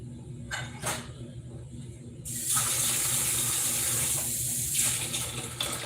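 Water runs from a tap and splashes into the bottom of a baking pan of stuffed peppers, a close, steady gushing stream after a few faint clinks in a quiet kitchen.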